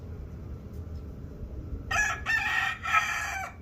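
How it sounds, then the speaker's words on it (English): A rooster crows in the background in Tlaquepaque, Mexico, giving a single loud drawn-out cock-a-doodle-doo in broken segments over low ambient noise. "So you're gonna hear a rooster in the background."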